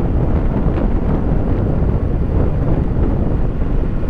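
A Kawasaki Eliminator SE motorcycle rides along a coastal expressway, heard mostly as loud, constant wind buffeting on the microphone with a low road and engine rumble beneath.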